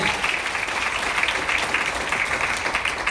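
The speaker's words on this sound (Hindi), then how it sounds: "पहले तो भैया के लिए एक जोरदार ताली होना चाहिए" Audience applause at a motivational speech, a dense, steady patter of many hands clapping throughout, fairly loud and continuous.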